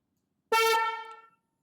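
One short, loud, bright blast from a snail-shaped electric air horn, a buzzing reedy tone lasting under a second before cutting off, heard alone in silence.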